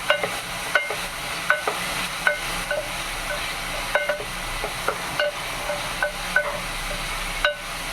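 Chopped beans and vegetables sizzle in a pan for wheat rava kichadi, a steady frying hiss broken by about a dozen sharp scraping strokes of a spatula stirring, close, without talk.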